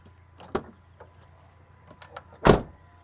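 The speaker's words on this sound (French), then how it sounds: "Je peux ouvrir la porte, la refermer." A Peugeot 206 car door opens and shuts after its hinges were treated with WD-40. There is a soft clunk first and a louder, solid slam about two seconds later, both close by in a quiet space.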